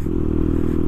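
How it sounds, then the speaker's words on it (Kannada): Motorcycle with its dB killer removed from the silencer, giving a loud open exhaust: a brief, steady, deep throbbing engine rumble, close and heavy. "ಈ ಗಾಡಿ ನೋಡ್ದ ಹೆಂಗೈತೆ ಸೌಂಡು."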